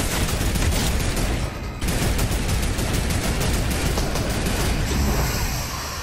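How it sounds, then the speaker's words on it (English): Sustained rapid gunfire in an online shooter video game, dense loud bursts of automatic fire with a brief gap near the middle, no talking. "Really, you shoot at me in this?"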